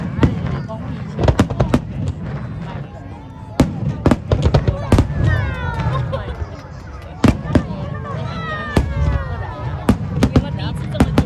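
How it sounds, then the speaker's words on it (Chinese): A fireworks show at Tamsui Fisherman's Wharf bursts close by in loud, sharp booms and crackles, with whistling rockets and crackling trails between blasts. Spectators chatter and exclaim throughout. "有没有第一次这么近看烟火？"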